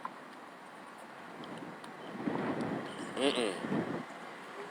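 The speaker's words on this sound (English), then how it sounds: "One of those windy mornings." Outdoor wind buffets a microphone on a windy morning, a low rumbling roar that swells and gusts while someone talks over it.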